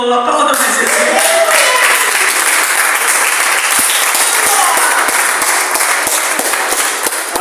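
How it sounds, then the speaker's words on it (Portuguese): A large church congregation applauds steadily and loudly throughout, a dense wash of clapping with no pauses. "Aplauda mais Jesus."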